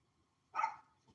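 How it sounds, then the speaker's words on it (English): A single short dog bark rings out at a moderate distance against an otherwise quiet room, one sharp yip-like burst lasting under half a second. "You hear the dog?"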